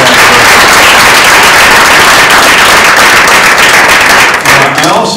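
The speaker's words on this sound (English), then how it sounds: "So y'all need to give them a round of applause" A room at a governor's education cabinet meeting gives the legislative representatives a loud, sustained round of applause, many hands clapping densely before it starts to thin near the end.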